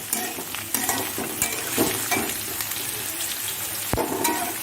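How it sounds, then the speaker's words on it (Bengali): Onion and garlic fry in a pan with a steady close sizzle, punctuated by repeated scraping stirs and a louder knock near the end. "পেঁয়াজ রসুনটা একটু লাল করে ভাজা হবে"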